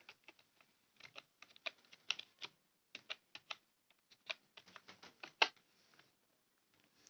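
A command is typed on a computer keyboard at the Windows command prompt while fixing a disk partition, producing close, crisp key clicks in uneven bursts separated by short pauses in an otherwise quiet room.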